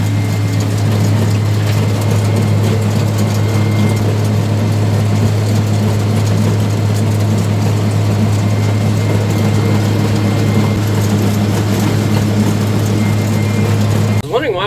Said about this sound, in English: We have the 6190 on the egg bagger today.